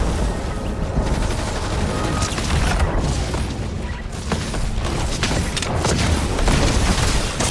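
Dense gunfire and explosions from the Fortnite Doomsday update fill the space, with rapid overlapping shots and booms at a steady loud level and no talking.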